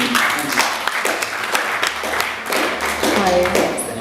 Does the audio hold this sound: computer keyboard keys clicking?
no